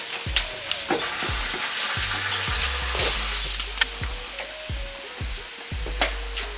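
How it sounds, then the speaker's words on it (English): Minced garlic sizzles in a pan for a vegan dish, with a bright steady crackle, several sharp knocks of a utensil against the pan and a brief splash of running water nearby. "Add some minced garlic."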